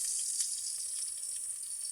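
Onion, green chilli, garlic paste and cumin paste fry in a pan at home, a soft, steady sizzle hissing close by with no talk over it.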